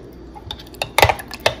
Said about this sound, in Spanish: Y ahora sí lo vamos a revolver.